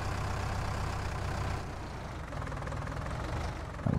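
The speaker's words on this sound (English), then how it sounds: "this poor little tractor is bogging way down" A small tractor in Farming Simulator 19 labors under a heavy implement, its engine chugging steadily at a low, bogged-down rumble with a slight dip midway and a brief bump at the end, close and continuous with no talk.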